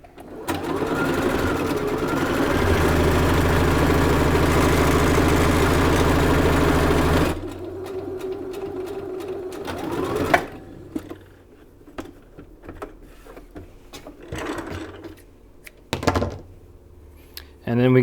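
A sewing machine stitching a fresh strip of fabric runs loud and steady for about seven seconds, then stops, followed by quieter handling clicks and rustles nearby.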